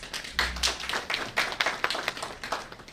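Audience clapping at a faculty staff-training presentation: a scattered, uneven run of sharp hand claps at moderate distance, no voices.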